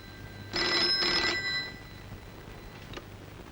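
A telephone bell rings twice in quick bursts, loud and close, then quiet room tone with a faint click afterward.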